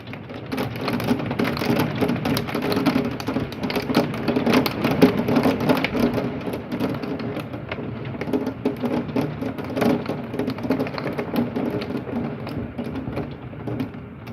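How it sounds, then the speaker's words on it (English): Heavy rain with golf ball sized hail in a severe thunderstorm, a dense, loud and continuous clatter of hailstones and rain beating on surfaces close by, with faint thunder behind and no voices. "I think we have golf ball sized hail, guys."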